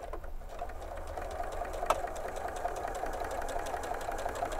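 A sewing machine runs steadily, stitching quilt fabric with a scant quarter-inch seam, an even rapid mechanical chatter close by and alone throughout.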